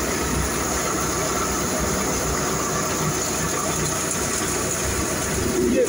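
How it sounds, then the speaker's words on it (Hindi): A farm tractor runs steadily at about 1200 to 1400 RPM during paddy straw residue work, giving a continuous loud mechanical rumble and clatter close by with no pauses. "ये देखिए ट्रैक्टर 14 RPM पे चल रहा है, 12 और 14 के बीच में चल रहा है ट्रैक्टर।"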